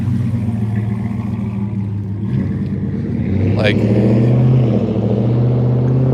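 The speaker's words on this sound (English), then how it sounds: "gotta love the loud trucks." Loud trucks passing outside on a cold day, a heavy engine rumble that swells and roars by up close, with a person speaking briefly over it.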